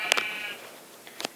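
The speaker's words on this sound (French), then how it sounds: "il y a des moutons." Sheep bleat in the video game Minecraft, one short wavering bleat followed by a few brief clicks, fairly close and clear with no talk.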